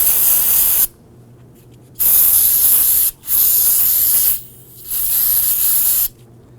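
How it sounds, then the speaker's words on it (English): Aerosol solvent sprayed onto rear brake parts of a 2008-2011 Ford Focus, four loud hissing bursts of about a second each separated by short quiet pauses, close to the mic. "I'm going to use some spray solvent and clean off all of this."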